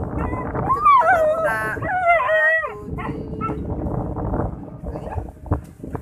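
A dog whines and howls in rising, wavering cries near the start, followed by quieter whimpers under background noise and some talking.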